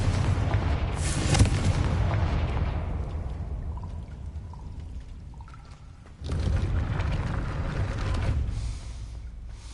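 A Confringo fire spell bursts against a gate in the Hogwarts Legacy game, a loud rumbling blast that fades over several seconds before a second heavy boom rolls in near the end.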